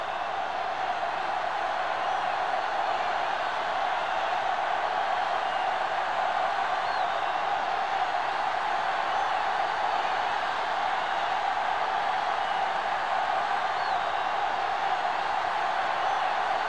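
A stadium crowd roars at a football video game, a broad, steady wash of distant cheering and murmur that holds at an even level for the whole stretch without breaks, with no clear talk.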